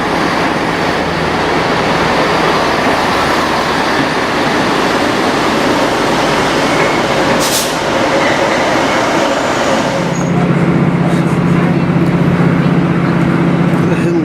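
A Class 156 diesel train running through snowy countryside, heard from inside the carriage: a loud, continuous rumble and rattle with a brief high squeal midway and a low engine tone rising near the end.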